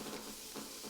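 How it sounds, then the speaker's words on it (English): Mixed vegetables and noodles stir-frying in oil, a steady close sizzle with soft swells as the food is tossed, no voices. "Continue stir frying, and then we add the soy sauce."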